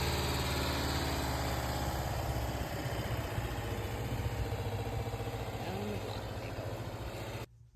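A Volkswagen Westfalia bus engine runs steadily on a short neighborhood drive, a loud, low, continuous drone with a rough vibrating pulse that cuts off abruptly at the end.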